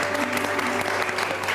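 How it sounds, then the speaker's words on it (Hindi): Brief burst of steady crowd clapping, dense and continuous for under two seconds. "तालियां होनी चाहिए ऐसे आदमी के लिए तो जबरदस्त"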